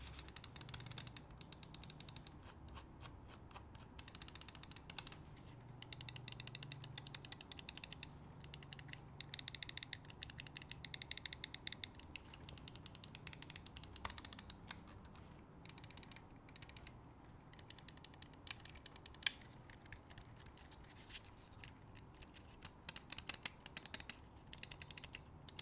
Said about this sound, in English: Here's a little sound test just to show you.